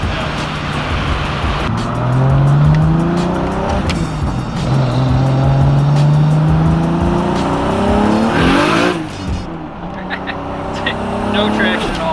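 A big-turbo 800 hp Toyota Supra MK4 rips through the gears on a street, engine screaming with rising pitch sweeps and brief tire wheelspin, loud and close, while people inside talk over it.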